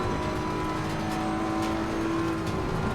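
A BMW M4 GT3 race car engine drones steadily in the Assetto Corsa Competizione racing game, a continuous even hum with no talk over it.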